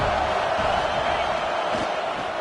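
Stadium crowd at a Michigan vs USC football game, a dense, sustained roar of many voices filling the whole moment at high level.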